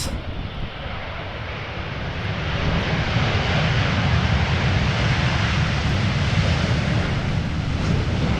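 A TUI Boeing 787-8 Dreamliner, registration PH-TFL, arrives at Amsterdam Schiphol in gusty crosswinds, its engines a loud, broad roar that swells after a few seconds and then holds steady.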